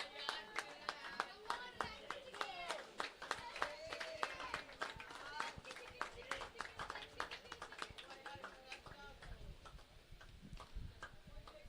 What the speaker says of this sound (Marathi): जरा एकदा जोरदार टाळ्या वाजवूया